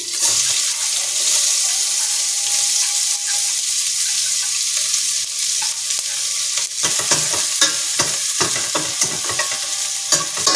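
Chopped onion and garlic frying in a pan for palak paneer, a loud steady hiss and sizzle that turns into busy crackling and stirring scrapes in the second half.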